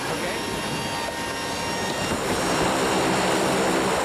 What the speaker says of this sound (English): A cargo plane by definition.